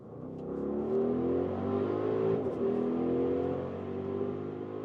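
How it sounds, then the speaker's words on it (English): An Audi RS Q8 performance SUV engine revs and growls through its sport exhaust, rising and holding, then dipping and climbing again, close and loud. "Also listen to that sound, that sport exhaust is giving us a good vibe"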